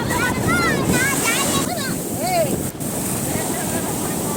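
Strong wind buffets the microphone at Mamallapuram beach, with waves rushing beneath and faint high voices or calls weaving through, loud and continuous.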